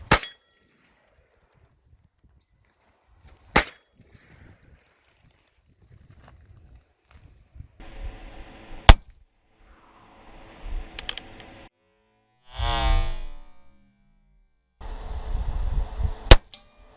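Shots from a Heritage Rough Rider .22 revolver with a 16-inch barrel and custom stock, heard as a few sharp, widely spaced cracks amid quiet handling noises and brief bursts of rustling.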